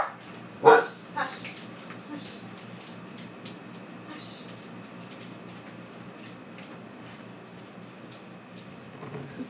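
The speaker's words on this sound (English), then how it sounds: "Ooh, that's Shadow right now. She's barking." A dog barks twice in quick succession, sharp and moderately near, then falls silent, leaving a quiet room with faint background noise.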